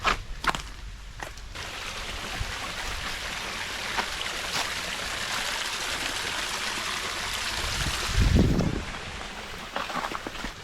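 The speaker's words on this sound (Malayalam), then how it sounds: "ഒരു നൈസ് വെള്ളച്ചാട്ടം കാടിൻ്റെ അകത്ത്." A small waterfall inside a forest gives off a steady, fairly faint rush of flowing water, with nearby footsteps and scuffs scattered over it and no talking.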